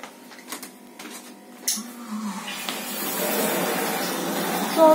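A small 12-volt motor in a homemade mini dishwasher starts up after a few clicks and handling noises, then settles into a steady, faint whirring hiss with water-like spray.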